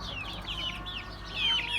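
Young Plymouth, Ameraucana and village chicks nearly grown into roosters, clucking and cheeping in quick chirpy calls, fairly faint and close, over a low background hum.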